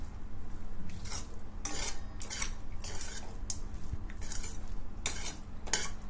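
Lemon rice being gently mixed in a pot with a metal spoon, a series of scraping, clinking strokes against the vessel every half second or so, close and steady with no talking.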